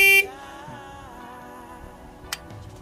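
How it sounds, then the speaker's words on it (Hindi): A single short, loud stock horn beep from a Bajaj Pulsar motorcycle sounds right at the start, then cuts off, leaving a faint engine hum. "मैं एक बार हॉर्न मार के दिखा दूँ।"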